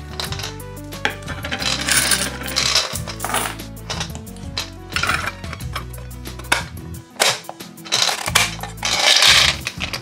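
A gumball coin bank is emptied by turning the cap on the bottom of its base, and a long cascade of coins jingles and clatters out in dense, close bursts, with no talk.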